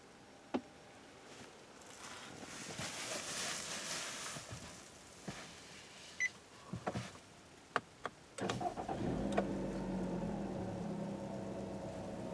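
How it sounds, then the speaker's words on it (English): A 2017 Nissan Rogue engine cranks briefly after a few cabin clicks and button sounds, then settles into a quiet, refined idle hum heard up close from inside the car. "Let's go ahead and start it up."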